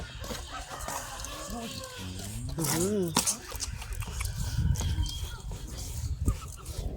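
A rooster crows loudly once partway through, with its call rising and falling, over steady chatter from people at a meal and a constant background din.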